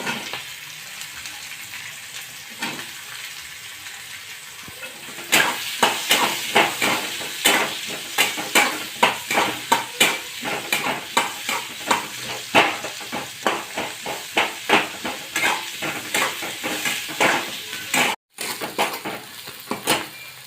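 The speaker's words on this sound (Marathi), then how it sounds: "आणि मिरची टाकली कांदा टाकूया" Onion and green chili frying in a pan for upma: a steady close sizzle gives way to busy stirring, with a spoon scraping and tapping the pan in a quick, uneven rhythm, no voices.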